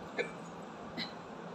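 A person hiccups twice, close to the microphone and about a second apart, each one a short soft jolt over a low steady background hum.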